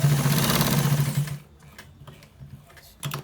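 A sewing machine runs briskly on a white designer trouser, loud and close for a second and a half before stopping, leaving faint handling clicks and a short final burst.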